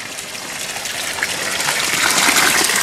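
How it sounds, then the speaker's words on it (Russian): Water gushes steadily into a cooking pot of stew for farm animals, a loud continuous pouring rush that grows slightly fuller as it goes, with no voices. "сейчас воды добавляю"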